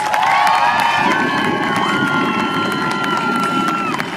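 A large outdoor protest rally crowd cheers and whoops loudly and continuously for student singers, with a sustained roar of voices and some shouting throughout.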